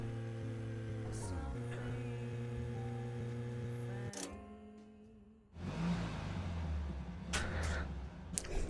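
Car engine noise from a driving video game: steady harmonic engine hum with stepped pitch shifts, a sharp transient near the middle, then a rougher, louder broadband roar of acceleration toward the end, with no talk.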